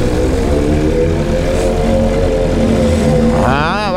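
Several motorcycles, including superbikes like the BMW S1000RR, idle and rev together in a loud, continuous engine drone on a hillside, with a rising rev sweeping up near the end.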